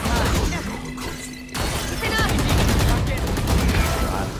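Rapid gunshots from a Valorant match crack out in a dense, continuous burst with a brief lull near the middle, loud and close, while players' voices mix in beneath the firing.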